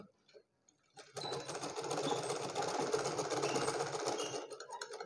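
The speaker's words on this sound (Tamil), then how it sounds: "அதுக்காக தான் இப்படி நம்ம ஸ்டிச் பண்ணுறது." A sewing machine stitches a blouse neckline, starting after a second of near quiet and then running in a steady, fast, even whir for about four seconds, close up and moderately loud.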